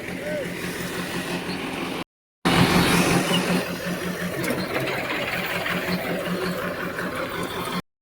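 A heavy tractor engine idles and rumbles steadily nearby with a low throbbing beat, briefly cutting out before resuming, while a voice talks over it; the tractor is delivering manure.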